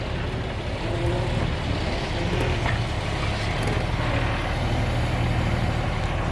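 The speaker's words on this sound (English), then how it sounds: "the diesel motor, I'm assuming, of the truck that's running the hydraulics on this thing" A diesel truck engine idles while running hydraulics, a loud, steady low rumble that holds evenly without pause, close by.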